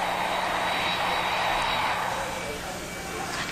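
A passenger airplane's engines roar steadily at a distance, a broad whooshing drone that slowly fades a little, with a voice talking over it.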